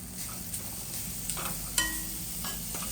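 Grated coconut being stirred into sweet coconut rice with jaggery in a pan, a soft low scraping and faint sizzle with a few spoon taps, close and quiet, no talking.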